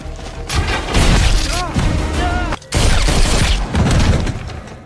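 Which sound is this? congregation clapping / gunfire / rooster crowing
gunfire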